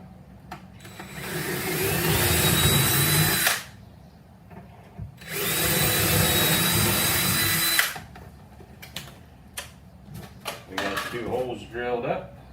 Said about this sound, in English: and just drill your holes.